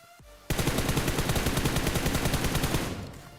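Rapid automatic gunfire in the battle royale game BGMI during a solo-versus-squad fight at Pochinki, a loud continuous burst of evenly spaced shots lasting about two and a half seconds before tapering off.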